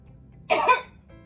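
A woman patient gives a single short, forceful cough during chest physiotherapy in a quiet room.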